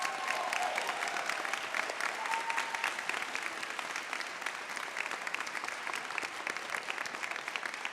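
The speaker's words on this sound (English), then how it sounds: "Won't you join me in honoring these outstanding student leaders with your applause?" Sustained audience applause at a university awards ceremony honoring student leaders, a dense, even wash of many hands clapping in a large hall, steady from start to finish.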